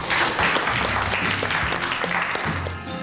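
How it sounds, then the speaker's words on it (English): A classroom of pupils applauds loudly and continuously, a dense wash of clapping with some chatter and low voices underneath. "Let's clap"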